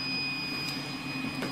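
A large Orca 3D printer with a 400 by 400 by 450 build volume runs mid-print, giving a steady whirring hum with faint high whine, continuous and even at close range.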